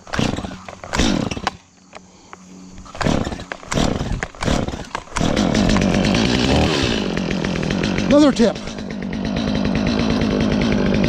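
A chainsaw sputters through several pulls and short bursts, then catches and runs steadily at a loud idle with a brief rev; a voice speaks briefly early on.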